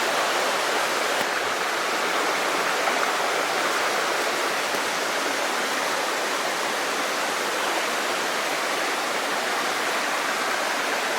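Steady, full rushing of a creek at a gold mine in the Sierras, continuous and fairly loud throughout with no voices.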